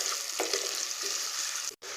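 Onion, green chilli, beans and broken egg stir-frying in a lightly oiled pan, a continuous close sizzle with soft stirring scrapes throughout, broken by a momentary dropout near the end.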